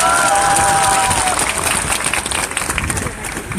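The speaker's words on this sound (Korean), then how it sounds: "큰 박수 부탁드립니다" A rally crowd of protesters applauds loudly and steadily, with broadband clapping filling the whole stretch while a voice calls out briefly near the start.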